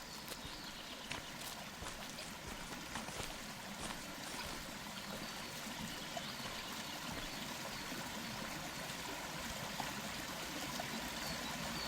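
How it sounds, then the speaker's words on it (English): The broad River Brandywine flows steadily with a soft, continuous wash and faint trickling, quiet and unchanging throughout, with no voices over it. "The river is broad, and though seeming to flow slowly, is deep and powerful."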